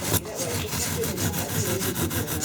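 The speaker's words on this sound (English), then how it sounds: "I'm using this roughly to give me a guide when I start rasping down for the depth I'm going to go to" A circle rasp worked over wood while building a haunted-house set, a steady rough scraping in quick repeated strokes, fairly close and moderate in level.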